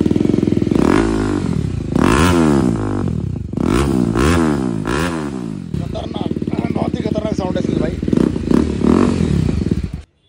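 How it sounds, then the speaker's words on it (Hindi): BMW G310 RR motorcycle with an Akrapovic titanium full-system superbike exhaust, revved hard in repeated sweeping blips that rise and fall over ten seconds, loud and close, with a rattly clatter between pulls. "अब दिखाते हैं एक्रोपॉविक टाइटेनियम जो कि इसमें लगाने वाले हैं सुपर बाइक वाला,"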